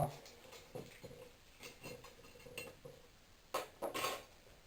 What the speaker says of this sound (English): We're going to take a few of them and kind of crumble them up in the bottom of the bowl.